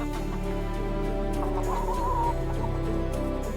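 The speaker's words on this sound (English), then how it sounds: "Chickens have been on Earth since before the Common Era, aiding human civilizations across the globe for thousands of years." Domestic chickens cluck close by in a farm setting, with soft overlapping clucks and a brief warbling call over a steady low background hum.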